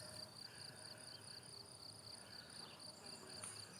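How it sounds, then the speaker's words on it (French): Steady high-pitched cricket chirping fills the background, faint and continuous, with a low rumble of ambient noise underneath. "On entend les grillons."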